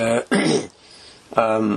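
A couple of harsh, throaty coughs or throat clears up close, separated by a short pause.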